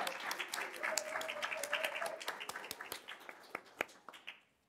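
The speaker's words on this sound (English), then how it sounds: "One final round of applause" Audience applause closing a presentation at a governing board meeting, a dense patter of many hands that thins into scattered claps and fades out, with no one talking.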